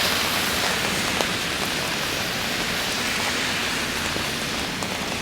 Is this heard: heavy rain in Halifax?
yes